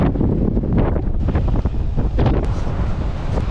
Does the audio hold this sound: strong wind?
yes